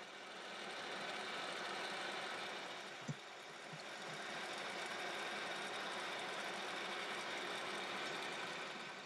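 A 3½ inch shell mill takes a heavy cut through metal, giving a steady, dense whirring grind that holds evenly throughout with one brief knock partway through.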